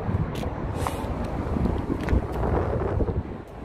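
Steady wind buffets the microphone throughout beside an Audi RS3, a continuous low rumble with occasional gusts, no other clear sounds standing out.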